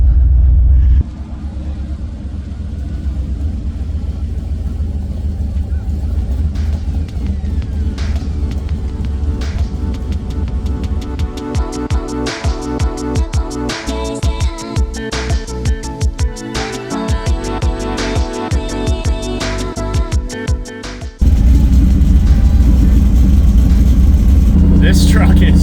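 A 2nd-generation Ford SVT Lightning pickup truck engine revs loud and close, with rough rumbling pulses and repeated throttle blips, ending in a sustained heavy drone.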